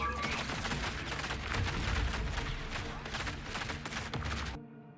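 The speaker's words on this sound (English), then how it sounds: "I'm firing because I'm literally taking damage first, so it's just a panic shot." Rapid gunfire in the video game ARC Raiders, a dense volley of loud shots for about four and a half seconds that then cuts off abruptly into quiet.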